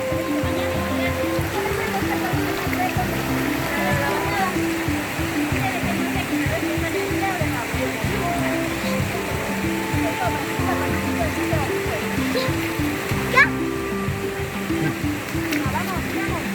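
Waterfalls at San Isidro, Macas, Ecuador, give a steady, broad rush of falling water that fills the whole stretch, with people talking over it in the foreground.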